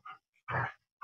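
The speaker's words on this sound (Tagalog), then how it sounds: "Dami ng aso." Dogs snarl and growl in short rough bursts, one longer throaty snarl in the middle, fairly close.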